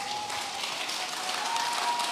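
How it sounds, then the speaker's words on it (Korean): Steady applause from an audience at a Buddhist talk, a dense wash of clapping continuing evenly throughout without pause. "여러분 더 크게 박수 쳐주실 거면 크게 가죠, 크게 우리"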